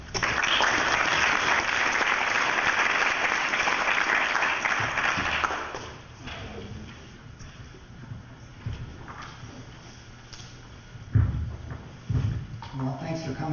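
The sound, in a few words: audience applause welcoming Dr. Stephen Warren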